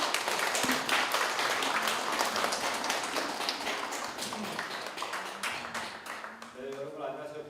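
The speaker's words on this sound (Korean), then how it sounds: "큰 박수 부탁드립니다." Audience applause rings through a hall at a commemorative event as a pansori singer is welcomed, dense clapping steady for several seconds, then thinning as a voice begins speaking near the end.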